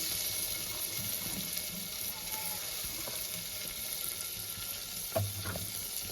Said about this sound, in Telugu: పచ్చిమిర్చి ఉడికిందండి ఉల్లిపాయలు వేసుకుంటున్నాం